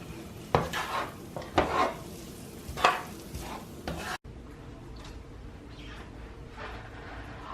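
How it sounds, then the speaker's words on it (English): Sautéed onion and garlic stirred in a pan, a few sharp scrapes of a utensil against the pan over a soft sizzle, then quieter scraping, close up with no talking. "We're going to give this a stir."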